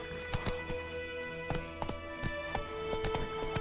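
Hooves of the horse Roach galloping in The Witcher 3, a steady rhythmic clip-clop of strikes over an ambient background, moderately loud and close.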